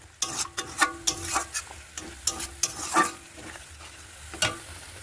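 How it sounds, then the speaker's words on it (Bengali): Water poured into hot cooking oil in a pan crackles and sizzles steadily, with a series of sharp pops and stirring scrapes rising above the frying hiss. "সামান্য একটু জল দিয়ে দিলাম, জল দিয়ে রেখে ফুটিয়ে নেব।"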